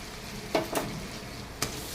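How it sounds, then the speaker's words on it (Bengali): Spice masala, cooked with tomato sauce, fries in a pan with a soft steady sizzle, broken by three short scraping stir strokes spaced irregularly across the moment. "আমার মশলাটা ভাজা হয়ে গেছে।"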